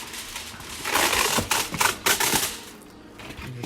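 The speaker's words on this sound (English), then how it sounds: "I'm gonna just cover with the lid, and the lid is from foil." Aluminium foil laid as a lid over a pan of stuffed peppers crinkles and crackles in loud, close, papery bursts that swell, break into a few sharp crunches, then settle into quiet handling.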